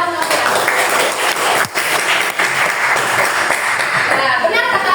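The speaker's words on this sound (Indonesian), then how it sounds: "tepuk tangan semuanya" A classroom group claps together during a teaching performance assessment, steady broadband clapping with mixed voices and chatter underneath throughout.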